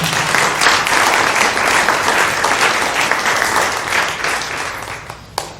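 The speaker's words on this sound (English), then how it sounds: "let's give them a big round of applause" Big round of applause from residents at an August resident forum, a full crowd clapping loudly and evenly before thinning out toward the end, with a last stray clap or two.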